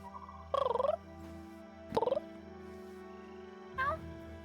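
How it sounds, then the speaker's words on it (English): A fluffy white cat's meow plays as a stream alert: three short, tonal meows, each pulsing briefly, spaced over a few seconds above a faint steady hum. "A fluffy white cat rates the stream with a meow"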